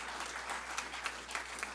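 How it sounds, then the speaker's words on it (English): An audience applauds a department chair, heard as fairly faint, even clapping from a crowd with a few sharper individual claps standing out. "Let's give him a round of applause right over here in the corner there."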